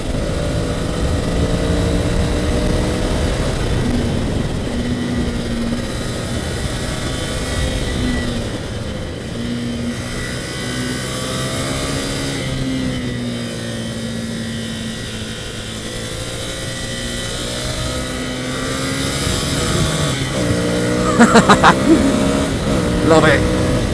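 A Ducati Scrambler Cafe Racer motorcycle engine humming steadily while riding on the road, pitch rising and falling with the throttle under ongoing wind-blown talk from the rider.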